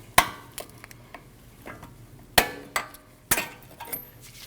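Metal clinks and taps from a screwdriver prying the brake pad retaining clip off the front brake caliper of a 2013-2019 Ford Escape, with several sharp, close knocks spaced irregularly over a few seconds and no talk.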